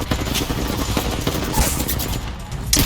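Rapid automatic gunfire rattles in Apex Legends, dense bursts of shots with sharp cracks and a brief louder blast near the end, fairly close and continuous.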